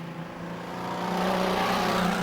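Car 37, a Super Street racer at Gympie Speedway, roars past as the broad engine noise swells and grows louder and closer over a couple of seconds.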